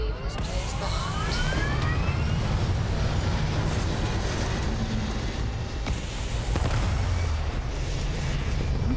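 A spaceship lifts off in the game Starfield, a Galbank Stormrider with a six-engine stack: a loud, sustained roaring rumble with rising whooshes and booming bursts that runs steadily throughout, with no talking over it.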